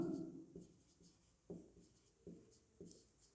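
Chalk or marker strokes on a board during a school science lesson, a few faint, separate scratchy taps and short rubs spaced across a quiet room.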